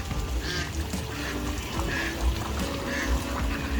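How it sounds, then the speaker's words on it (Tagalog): Ducks quack in a short, irregular run of nasal calls outdoors, moderately near, over a steady background rush and with no one talking. "ang cute ng mga pato"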